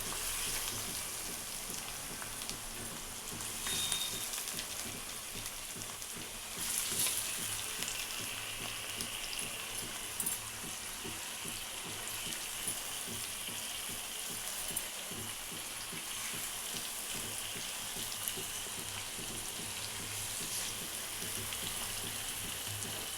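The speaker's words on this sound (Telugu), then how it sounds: "తర్వాత ఫిష్ వేసుకోవాలండి." Fish pieces going into a simmering tamarind fish stew (chapala pulusu), giving a faint, steady bubbling sizzle throughout with a few soft knocks; no voices.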